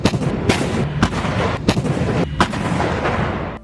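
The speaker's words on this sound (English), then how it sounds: "The M109 Howitzer helps the U.S. Army accomplish this mission through mobile long-range indirect fire" An M109 Howitzer's 155mm cannon fires in a rapid series of heavy booming blasts, several sharp reports in quick succession with rumbling tails, loud and close.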